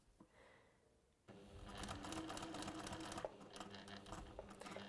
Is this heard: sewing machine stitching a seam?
yes